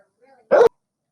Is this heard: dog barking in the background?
yes